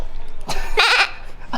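A sheep lets out one short, wavering bleat close by, preceded by a brief soft bleat, with no one talking.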